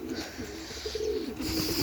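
Homing pigeons cooing in a loft while gathering nesting material, a close, low rolling coo repeating in soft swells over steady background hiss, with no talk.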